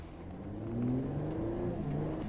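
A 2020 Infiniti Q50 sport sedan accelerates on the road, its engine note climbing in a smooth rising drone that swells then holds steady, close and fairly loud with no talk.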